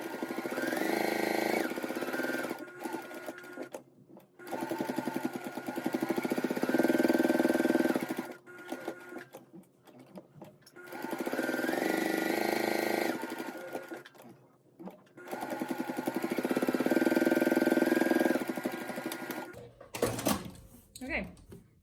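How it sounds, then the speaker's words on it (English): Sewing machine top stitching a fabric face mask, running in three long steady bursts with short pauses between, fairly close and loud, with a faint voice now and then. "And I'm top stitching it 1/8 of an inch."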